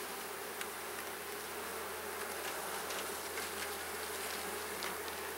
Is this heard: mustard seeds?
no